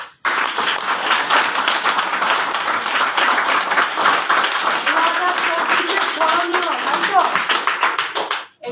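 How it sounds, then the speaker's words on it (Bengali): Audience at an office gathering clapping hands together, a dense steady burst of applause lasting several seconds at close range, with faint voices mixed in beneath the clapping. "কিরকম লেগেছে সেটা একটুখানি বলবেন হাততালি দিয়ে।"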